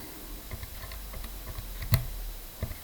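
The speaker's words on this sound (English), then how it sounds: "we get our calculator and we type in what's inside the modulus" Key presses on a handheld calculator, a quick run of light clicks and taps scattered across a few seconds with one sharper tap near the middle, faint and close with no talking.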